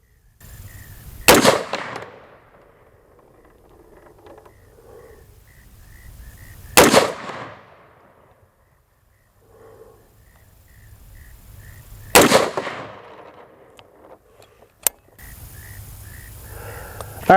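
Shots from an AR-15 pistol being sighted in with a Sig Romeo 5 optic crack loudly outdoors, spaced several seconds apart with quiet between, four sharp reports in all.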